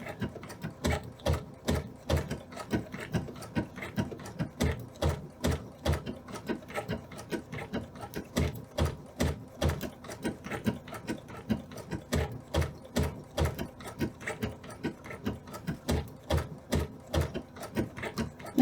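A sewing machine stitches fabric slowly around a button shape, a steady rapid rhythmic clatter of needle strokes, close and moderately quiet, with slight changes in pace.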